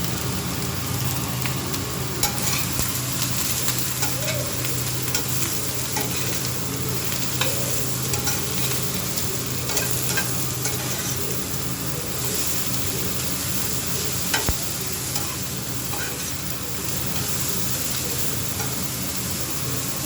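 Eggplant fries in hot oil in a pan while being stirred, a dense steady sizzle with occasional scraping and clinking of the utensil, close and loud throughout with no talking.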